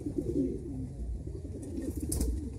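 Faint, low cooing from pigeons in a home loft drifts on steadily with no one talking, a quiet continuous murmur.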